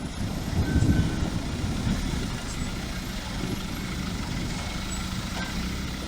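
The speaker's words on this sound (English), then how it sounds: "the loaded trucks navigate the rough, narrow road from Mount Merapi in a convoy" A convoy of loaded trucks crawls along a rough, narrow road down from Mount Merapi. Heavy engines rumble continuously, with a louder surge early on and occasional faint squeaks or air-brake hisses. No voices are heard.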